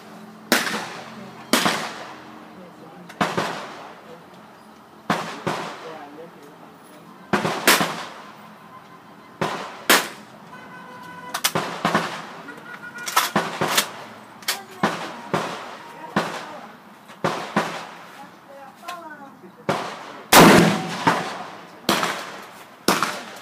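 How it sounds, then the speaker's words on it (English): A Kel Tec KSG shotgun fires 2 3/4 inch slugs outdoors at a 50-yard target, producing loud, sharp, echoing blasts spaced several seconds apart, roughly a dozen in all, with talking between some shots. "We're going to be shooting a 2 3/4 inch slug, 50 yards with open sights."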